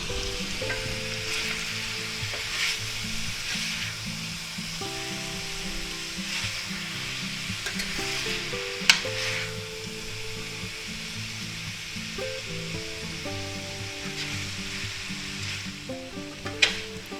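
Ground beef, vegetables and noodles sizzle steadily in a hot stir-fry pan, a continuous close crackling with occasional scrapes and clinks of stirring, no voices.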